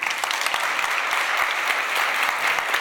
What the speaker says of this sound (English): I would just like to kindly ask you to give a round of applause for the minister and the panelists here.